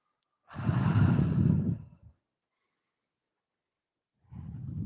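A long, deep exhale during a power vinyasa yoga session, breathy and close, followed by a pause and the start of another slow breath.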